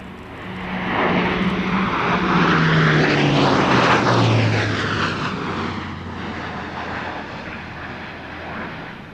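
Classic propeller plane roaring through a high-speed pass at an air show, the engine note sweeping down in pitch as it passes close overhead, then fading and receding into the distance.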